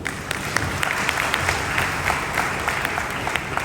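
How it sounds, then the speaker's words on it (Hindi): Loud, steady applause from an audience at a live product training event, many hands clapping densely together in a continuous roar with occasional sharper individual claps. "तो जोरदार तालियां हमारे AWPL के लिए"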